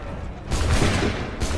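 A volley of gunfire in a video game, a sustained dense burst of shots and booms rolling on for about a second, loud and close, with no talk over it.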